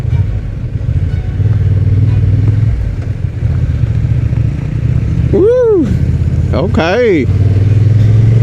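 A Honda Transalp 750 motorcycle cruising on a road, a steady, close engine drone with wind rumble, and a voice briefly speaking near the end.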